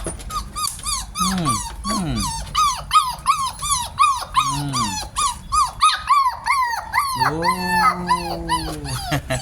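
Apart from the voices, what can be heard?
puppies whimpering and growling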